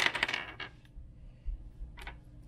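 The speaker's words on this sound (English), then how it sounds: "They're the astrology dice, okay? So we're gonna see what the astrology dice has for us today." Astrology dice rolled onto a surface: a quick burst of rattling clicks, then a pause and one brief clack later, all quiet and close.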